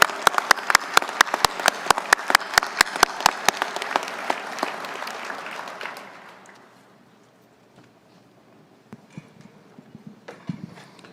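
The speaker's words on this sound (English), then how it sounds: "Let's have one more round of applause for our awardees today." Luncheon attendees applaud awardees with a burst of brisk, bright clapping that fades out after about six seconds, leaving quiet room tone with a few scattered sounds.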